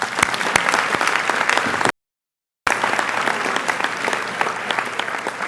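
A school audience applauds steadily at a senior class night, dense even clapping throughout, briefly cut off by a gap of silence before resuming at the same level.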